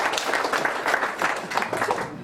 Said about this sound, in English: Give him a round of applause, sir.